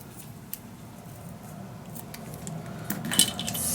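Paper is cut with scissors for a steampunk dos-a-dos mini album: quiet, continuous snipping and rustling with a few light clicks, close and soft.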